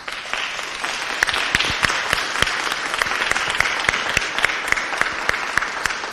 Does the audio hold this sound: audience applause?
yes